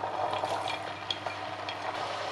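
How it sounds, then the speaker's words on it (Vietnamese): Bean sprouts stirred quickly through a pot of boiling salted water, a steady watery bubbling and swishing with light clinks of a utensil against the pot, close and continuous with no talking. "trộn nhanh qua thôi là vớt ra liền để cho giá còn độ giòn"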